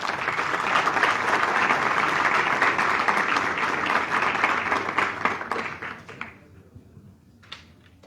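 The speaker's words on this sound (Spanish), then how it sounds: "Aplausos para él, por favor" An audience applauds at a book presentation for the former president Carlos Mesa. Sustained clapping from a large room fades over the last couple of seconds, leaving a few scattered claps.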